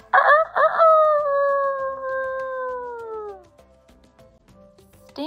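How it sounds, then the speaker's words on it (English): A rooster crows once nearby: two short clipped notes followed by a long, drawn-out call that slowly falls away. "Can you make a rooster sound?"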